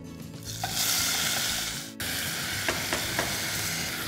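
Soaked rice is sautéed with spices in a pan, giving a steady sizzling hiss with stirring scrapes and a few sharp spoon knocks against the pan, fairly quiet and with no talk.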